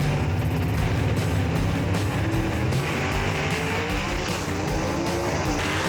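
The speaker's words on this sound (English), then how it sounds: "no problems at all for either car right there as they go straight down the racetrack" Two gasser drag race cars roar down the Knoxville Dragway after a rain delay, a loud continuous engine blare with shifting revs and rasping exhaust, close and unbroken for several seconds with no talk.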